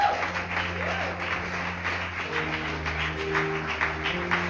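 Church congregation applauding during a service, a steady wash of clapping and cheering filling the room alongside sustained music, continuous and fairly loud throughout.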